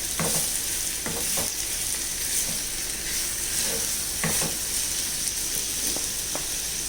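Onions for a Kerala-style prawn roast fry in a pan with a steady hiss, while a spoon stirs them in scattered scraping knocks, close and continuous.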